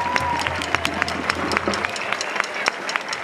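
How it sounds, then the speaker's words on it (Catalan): Crowd applause at a drumming band gathering in Granollers, steady clapping with sharp individual claps standing out, plus scattered whistles and cheers in the background. "Un fort aplaudiment per tots vosaltres,"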